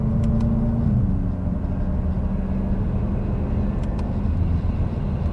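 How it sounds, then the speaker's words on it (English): BMW F10 M5 under way, a loud, steady low engine and road drone fills the cabin, with a slight dip in pitch as the gearbox steps up from third through fourth and fifth, no talk. "Watch, I'm gonna go to fourth gear and then fifth gear,"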